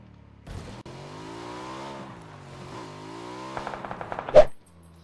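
Rapid gunfire rattles out in a shooter video game over a steady droning engine tone, ending in a brief loud burst close by.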